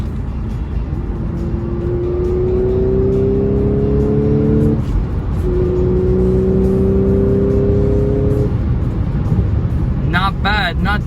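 Audi S4 B8.5 fitted with an RKX and AFE intake, its engine rising loudly in two long revving pulls with a brief dip between, ending in a short higher whine.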